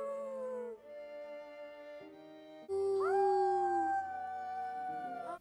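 A dinosaur and a boy from The Good Dinosaur howl together, sustained tonal wails that overlap, shift pitch, and swell louder in the second half, near and alone without talk.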